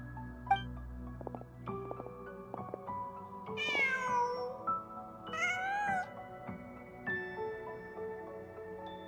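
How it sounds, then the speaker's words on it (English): A cat in the video game Genshin Impact meows twice in drawn-out rising calls over steady game music and ambience, close and clear, with no voices. "Just a cat."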